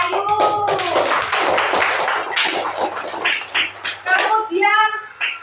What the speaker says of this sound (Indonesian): Beri tepuk tangan untuk Mbak Ayu.